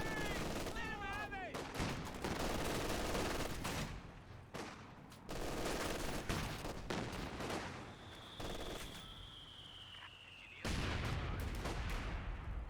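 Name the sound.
gunfire in video game Company of Heroes 2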